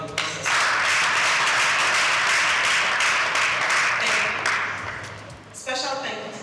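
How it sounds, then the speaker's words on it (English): An audience at a live event breaks into sustained applause, a dense wash of clapping that swells quickly, holds steady and then fades as a voice resumes speaking. "Please give them a round of applause."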